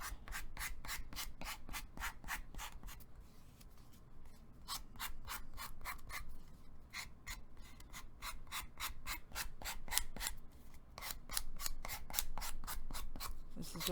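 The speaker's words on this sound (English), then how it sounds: "This is just a regular nail file." A regular nail file rubs back and forth along the edge of a sheet of paper in quick, even rasping strokes, close and distinct, continuing steadily with short pauses.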